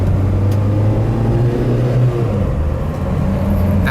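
Engine of a 1985 Mercury Lynx hatchback with a 1.9L four-cylinder accelerates at light quarter throttle, a steady loud droning rumble from inside the car that dips slightly as the pitch settles.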